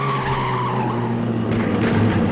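In the Carmageddon video game, a large, heavy tank-like vehicle skids with a loud, sustained tire squeal over a rumbling engine, the screech sliding in pitch as it turns.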